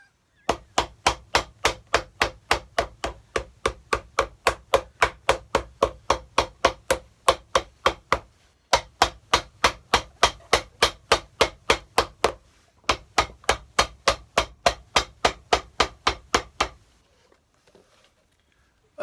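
A hammer strikes a shell cordovan Alden shoe being restored, dozens of sharp, evenly spaced blows in quick steady rhythm, close and loud, with two brief pauses before the tapping ends.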